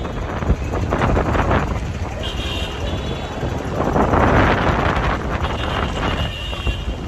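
Strong wind in Bonifacio Global City, Philippines, buffets the microphone in a loud, continuous rush with surging gusts, drowning out faint background traffic.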